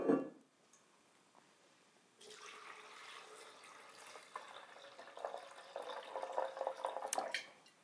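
After a brief opening sound and a quiet pause, water is poured over almonds into a blender jar for almond milk, a soft splashing trickle that grows more liquid and bubbly toward the end.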